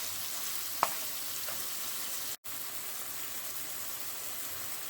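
Pasta sauce with roughly chopped basil sizzles steadily in a pan with a constant hiss, and a single faint scrape or tap of stirring is heard early on, with no talking.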